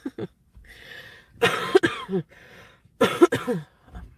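Two bursts of harsh coughing, a short pair at first and then a longer fit, each followed by a breathy pause and softer throat sounds, close and loud.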